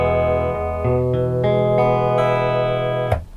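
Electric guitar played through the main output of a Line 6 HX Stomp with a Hiwatt amp model, distorted sustained chords changing every half second or so, up close with no voices, then cut off abruptly.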